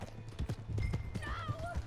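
Horse hooves clop at a gallop in Red Dead Redemption 2, a rhythmic run of hoofbeats with a brief whinny, while people shout and talk over it.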